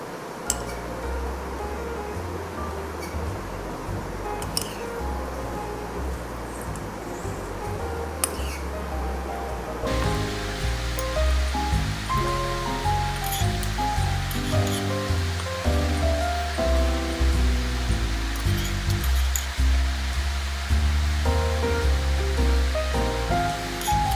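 Chapati dough frying in oil on a hot tava gives a continuous crackling sizzle with scattered clinks and scrapes of utensils against the pan, growing busier partway through, with no voices.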